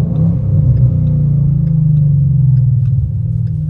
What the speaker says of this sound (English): So there's a Mustang right there.